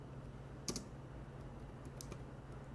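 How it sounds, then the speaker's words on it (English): Faint keystrokes tap on a computer keyboard in a quiet room, with a couple of brief clusters of clicks over a low background hum. "what I'm typing here?"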